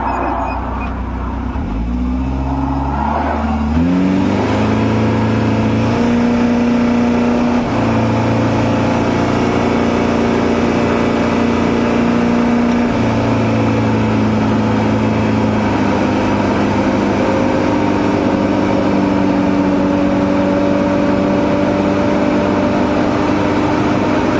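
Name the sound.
car driving at speed on a dual carriageway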